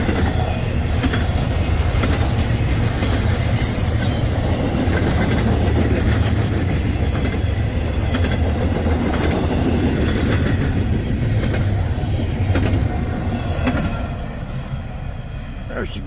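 A freight train passes close by at a junction in Attica, Ohio, on a freezing winter day, a loud continuous rumble with clacking wheels and faint squeals that eases slightly near the end.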